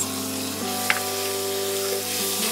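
Shrimp and pumpkin greens seasoned with coriander and cumin powder sizzle steadily in a pan. The frying noise is continuous and fairly loud, with a brief scrape of stirring, a low hum underneath and no talk.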